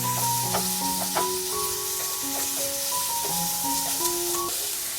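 Sliced onions sautéing in a pan for an onion masala, a continuous close sizzle and hiss with a spoon stirring through it. Several overlapping steady tones sit on top of the frying.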